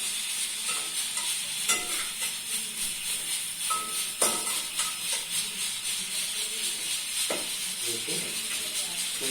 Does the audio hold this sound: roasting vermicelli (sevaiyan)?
yes